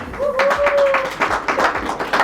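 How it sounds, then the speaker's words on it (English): An audience at an African visual artist exhibition event in Adelaide breaks into a short round of clapping, fairly close and moderately loud, with a voice briefly heard at the start before the hands take over. "So we need to acknowledge by clapping for that."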